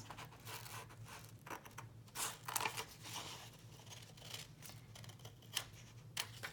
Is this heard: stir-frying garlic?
no